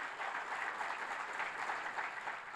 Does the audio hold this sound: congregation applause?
yes